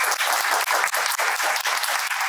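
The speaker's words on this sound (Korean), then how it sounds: "우리 마지막으로 여러분들의 귀한 말씀 전해주신 세 분께 뜨거운 박수" Warm audience applause closing a one-hour talk concert with three industry professionals at the 2022 Korea agriculture fair, dense clapping that swells in quick waves for a couple of seconds.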